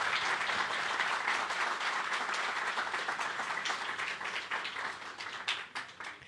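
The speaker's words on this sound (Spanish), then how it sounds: "Ustedes le pueden dar un aplauso a ese Jesucristo que nos dio la vida." A church audience bursts into sustained applause, many hands clapping in a dense, close wash that thins into scattered claps toward the end, with no talking over it.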